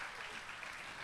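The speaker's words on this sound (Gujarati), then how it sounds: "જોરદાર તાળીઓના ગડગડાટથી વધાવો." Brief, faint burst of steady audience applause at a Bhagavat cultural program, an even wash of clapping with no break.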